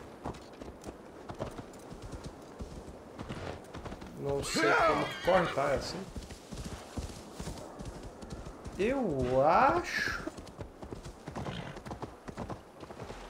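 Horse hooves clip-clop at a gallop in Assassin's Creed Valhalla, a steady rhythmic patter with two loud whinnies, while someone talks over it throughout.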